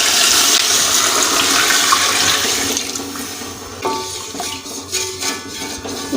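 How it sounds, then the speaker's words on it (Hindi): Ten cups of water poured into a cooking pot for chicken pulao, a loud steady gush for nearly three seconds that thins to trickles and a few clinks of the pot near the end. "इसमें हम डालेंगे 10 कप पानी के"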